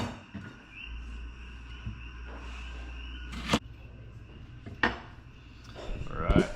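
A kitchen knife slices lengthwise through an onion on a cutting board, giving a few sharp, sparse cuts over a low steady background hum.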